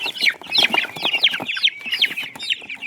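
Many Peruvidai chicken chicks in boxes peeping rapidly and continuously, high-pitched overlapping cheeps from a crowded group close by.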